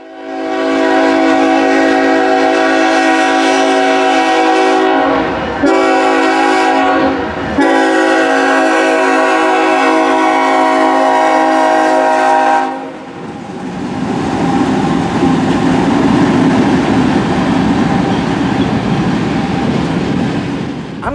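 A Nathan K series locomotive air horn blasts loud and near, a sustained multi-chime chord broken by two brief gaps, then cutting off around twelve seconds into rumbling train noise and wheel clatter.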